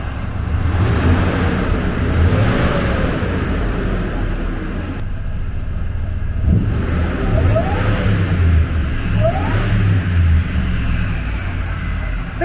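A 2003 Ford F-150 Harley Davidson Edition at a wrecking yard with 170,000 miles runs steadily and loudly up close, its deep engine drone carrying a rising and falling whine throughout.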